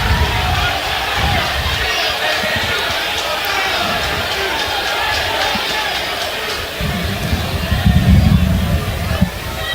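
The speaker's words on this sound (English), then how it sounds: "Crowd getting into it on every questionable call today." A large baseball stadium crowd at an NCAA Super Regional game in Fayetteville roars and murmurs steadily throughout, swelling louder near the end, with a public-address voice talking over the noise.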